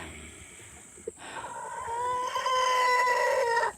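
A rooster crows in a long, drawn-out call, fairly close and clear, after a brief thump, with no talking.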